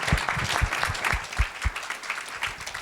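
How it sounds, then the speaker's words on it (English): An audience at a TechStars Patriot Boot Camp event applauds a panel, a brief burst of steady clapping from a room of people, fairly close and uninterrupted. "let's give a round of applause for the panel here."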